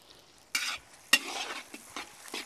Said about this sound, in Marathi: कांदा व्यवस्थित लाल होईस्तोवर आपण असंच परतून घेऊ